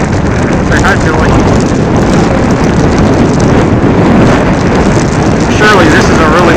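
Blizzard storm wind at Chesapeake Beach, Maryland, roaring loud and constant into the microphone as heavy buffeting noise, with no letup across the whole stretch.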